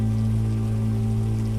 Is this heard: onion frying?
no